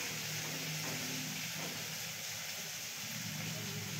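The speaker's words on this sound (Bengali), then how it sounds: "পেঁয়াজ কুচি দেওয়ার সঙ্গে সঙ্গে মা অল্প একটু নুন দিয়ে দেবে" Chopped onion with a pinch of salt frying in a pan for prawn biryani, giving a steady, dense sizzle that stays even and close throughout, with no talk.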